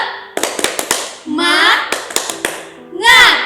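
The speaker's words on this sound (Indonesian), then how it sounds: "Oke, tepuk semangat ya adik-adik." Children at a church Sunday school service clap a rhythmic cheer: bursts of sharp, quick claps alternate with short chanted voices, loud and close.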